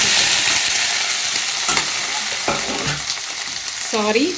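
Tomato, garlic and tamarind sizzle loudly as they fry in a pan for a millet chutney, with a steady crackling hiss and a few stirring scrapes running throughout.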